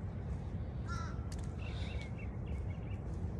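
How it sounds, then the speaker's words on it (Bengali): A few crows caw briefly in the distance, faint calls standing out over a steady low background hum, no voices present. "কাক ডাকছে।"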